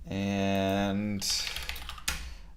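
Fingers tap on a computer keyboard in a quick run of close, crisp clicks after a brief sustained tone.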